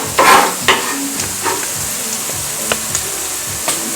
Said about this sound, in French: Je mets l'ail.